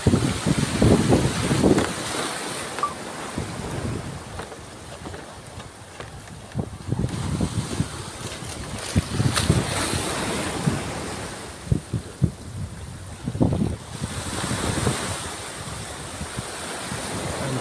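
Ocean waves surge and break in repeated rushes, flooding a coastal village in Pandeglang, Indonesia, with wind buffeting the microphone throughout.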